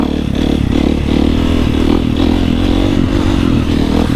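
Supermoto motorcycle engine running loud and close, a steady throaty rumble with rough mechanical clatter, held without a clear rev rise, no talk.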